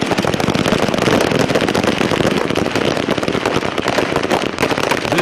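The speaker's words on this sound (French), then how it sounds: "On a entendu plein de coups de feu." Dense, continuous crackling bursts of gunfire as police shoot at striking miners in South Africa, loud and sustained throughout with no pauses.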